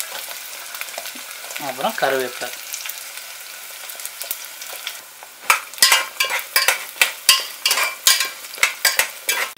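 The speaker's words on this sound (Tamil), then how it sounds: "இந்த வெள்ளைப்பூண்டு லைட்டாக ப்ரௌன் கலர் ஆகிறதண்டிக்கும் நல்லா வதக்கிட்டு இருக்கலாம்" Shallots and garlic fry in a pan, a quiet sizzle at first, then a run of loud, rhythmic spatula scrapes and knocks against the pan; a voice briefly speaks.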